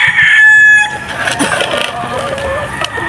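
Backyard chickens kept on a Filipino farm cluck and crow loudly up close, with a rooster-like call at the start followed by scattered clucking over outdoor background noise.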